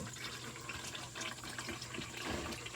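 Engine oil draining from a 2014 Mustang GT, a faint, continuous liquid trickle and splatter into a pan, steady throughout with low background hiss and no talking.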